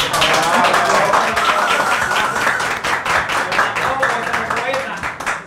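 Enthusiastic clapping from a small studio group on a Spanish-language blind-date show, dense and continuous for several seconds, with voices mixed in over it.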